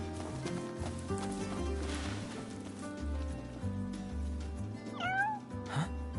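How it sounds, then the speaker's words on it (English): A cat meows a few short times near the end in Final Fantasy XV, heard over steady game music and ambient background sound. "Hey, you're the cat we saw in Galden."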